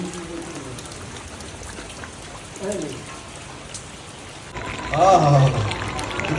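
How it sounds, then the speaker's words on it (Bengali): Steady rain patters throughout, with a soft surface hiss, and a few faint voices and a brief louder sound rising near the end. "না বৃষ্টি পড়েই যাচ্ছে"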